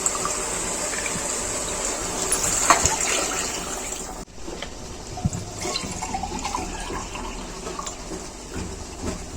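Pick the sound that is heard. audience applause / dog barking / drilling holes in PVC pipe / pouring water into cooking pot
pouring water into cooking pot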